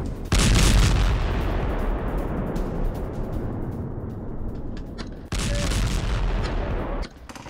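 Heavy gunfire and explosions from close-quarters fighting in Shejaiya, Gaza: two loud, sustained blasts of booming, crackling fire, the first lasting several seconds before fading, then a second burst, with no voices heard.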